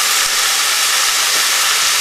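Spinach sizzling in hot oil in a frying pan, a loud continuous crackling hiss close up with no pauses.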